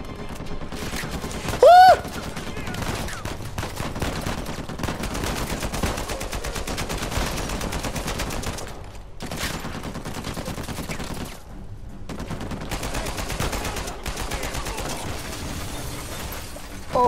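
Gunfire in the video game Uncharted 4 comes as bursts of rapid shots and sharp cracks, with brief quieter gaps between the volleys.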